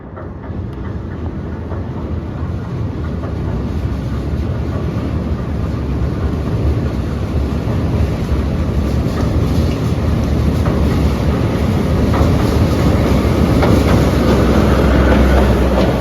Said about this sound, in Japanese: もうすぐ電車が通るので